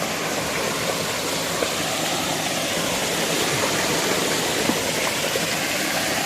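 Spring water falls from above inside a cave, a loud, steady rush of splashing water that fills the space without a break and carries no voices.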